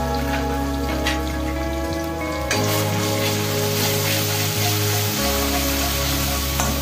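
Ginger, green chili and tomato paste fry in hot oil in a wok while being stirred, making a loud, steady, close sizzle that continues without a break over a low background hum.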